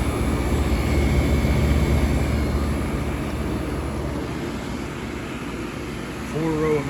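A 1967 Fedders Weather Wheel 12,000 BTU 115V window air conditioner with an AJ compressor runs nearby, giving a steady, loud broadband roar and hum that holds constant throughout.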